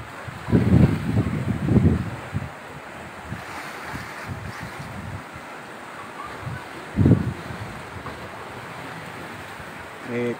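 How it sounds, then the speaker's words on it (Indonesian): Strong wind roaring over big sea waves behind a house by the shore, with heavy gusts and surf surging loudly near 1 and 7 seconds and a steady windy rush in between. "besar bang ombak ya bang."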